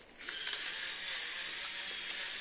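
A pepper grinder is twisted by hand, giving a quiet run of rapid ratcheting clicks and crunching as peppercorns are ground for a pheasant dish.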